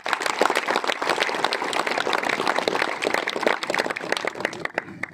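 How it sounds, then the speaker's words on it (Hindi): A crowd at a cricket league final ceremony in Charsadda, KPK, breaks into sustained, dense applause, with many hands clapping steadily before the sound thins slightly at the end. "सबसे पहले शानदार क्रिकेट के लिए तालियां होनी चाहिए।"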